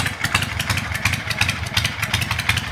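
A 1967 Generator Shovelhead chopper motorcycle idles close by, its engine thumping in a loping, uneven rhythm with steady exhaust pulses and no talk.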